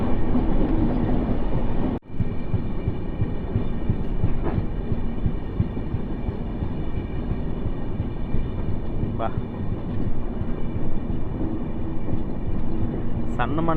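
The Kacheguda–Murudeshwar express passenger train, number 12789, runs on the track with a loud, steady rumble, faint rhythmic clicks and a brief dip early on.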